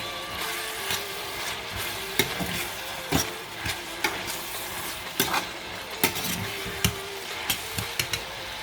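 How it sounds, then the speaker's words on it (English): Coconut fried rice stirred in a frying pan, with a steady sizzle and repeated sharp scrapes and clicks of the spoon against the pan at an uneven rhythm. "Stir it."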